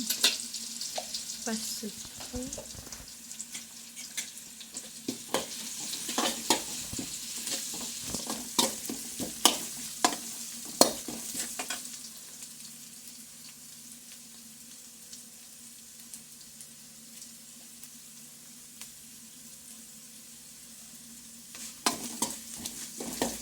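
Whole spices and turmeric sizzle and crackle in hot oil in a pan, close up, with a spoon stirring and scraping through the first half before the frying settles into a quieter steady hiss, with a few more stirring scrapes near the end.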